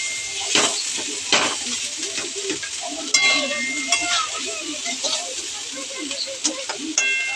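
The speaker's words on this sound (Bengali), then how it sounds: "এই যে আলু কুটিটা ভেজে নিচ্ছে" Diced potatoes frying and being stirred in a home kitchen pan, a steady sizzle with scraping and clinks of a utensil against the metal throughout.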